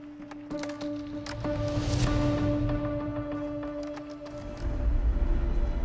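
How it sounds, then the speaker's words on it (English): Rocks tossed onto frozen ice, processed with pitch and time shifting into a strange textured wash of clicks, scrapes and ringing tones, moderately quiet, swelling near the end, with no voices. "I tossed some rocks on the ice"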